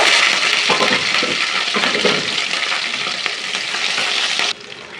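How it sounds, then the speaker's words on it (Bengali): Green chilies fry in hot oil in a pan, giving a loud, continuous sizzle with stirring scrapes that drops off sharply near the end, with no talking. "প্যানে তেল দিয়ে দিয়েছি এই যে কাঁচামরিচ লঙ্কা দিয়ে দিব"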